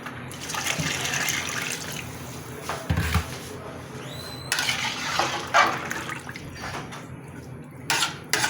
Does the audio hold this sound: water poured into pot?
yes